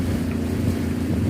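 Outboard motor on a sailboat running at about a quarter throttle off the Mull of Kintyre, a loud constant drone blended with wind and water noise.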